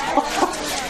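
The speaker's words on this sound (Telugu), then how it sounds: "బెంగళూరు నుంచి తెప్పించిన పుంజులు చూసావు కదా" Fighting roosters brought from Bangalore give short, close clucking calls, three or four quick bursts spaced across a moment over a noisy background.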